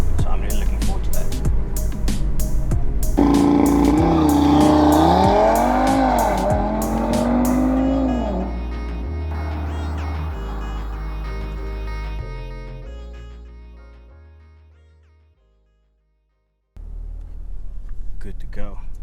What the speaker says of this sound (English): this is actually my first time launching